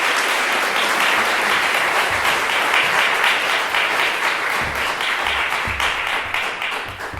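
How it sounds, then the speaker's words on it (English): An audience applauds Percy Stubbs at a World Refugee Day celebration for refugee artisans in Hartford. Dense, sustained clapping from a large crowd fills the whole stretch, loud and steady before easing slightly at the end. "Round of applause for Percy Stubbs."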